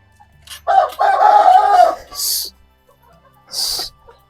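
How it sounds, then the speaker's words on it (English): Roosters at a backyard chicken house crow loudly and close, one long call followed by shorter bursts and a sharp cluck-like squawk near the end. "The roosters have started making that noise"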